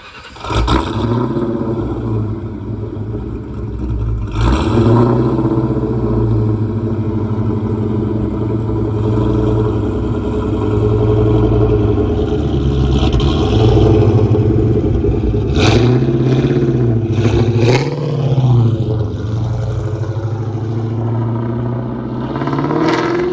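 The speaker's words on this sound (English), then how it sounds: "it's never a waste when you're driving the car around" Ford Mustang engine revving while driving, a deep rumbling drone with several sharp throttle blips and rising revs, close and loud with no talk.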